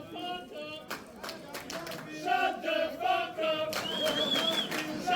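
A wrestling crowd at a Lutte! World So Cold 2025 show roars and chants back at a wrestler issuing a challenge, a sustained wall of massed voices with swelling shouts and scattered claps, loud and continuous throughout.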